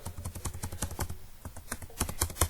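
Someone types on a computer keyboard, a quick uneven run of sharp key clicks with brief pauses, close and clear with no talking.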